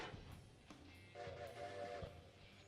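The three-chime Hancock long bell whistle from Railroader sounds faintly, its sustained chord rising midway through over a low rail rumble and scattered clanks, with no talking.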